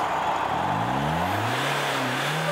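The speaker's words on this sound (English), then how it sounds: "It's a crowd cheering and monster trucks roaring!" Monster trucks roar at an indoor monster truck rally, engines revving and rising in pitch in a steady, loud, continuous growl with a broad crowd-like wash behind them.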